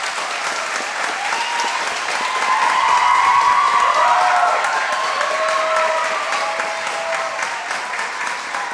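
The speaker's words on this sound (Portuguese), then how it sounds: "eu queria pedir uma salva de palmas também para ela, para a esposa" Sustained applause from a crowd at a municipal council solemn session in Lins, swelling mid-way and then tapering while clapping carries on steadily throughout.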